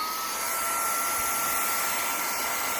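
A cordless 12000Pa mini handheld car vacuum cleaner with its nozzle fitted runs at a steady, close, high whirring whine without a break for about three seconds.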